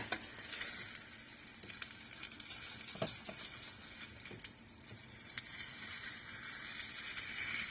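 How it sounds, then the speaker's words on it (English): Pieces of food fry in a pan and are turned over, giving a steady close sizzle with occasional clicks and scrapes as they are flipped. "I'm going to turn these over now and cook them on the other side"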